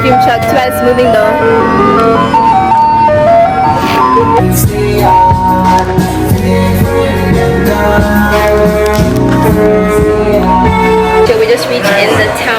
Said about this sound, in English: Shout out to their ice cream truck.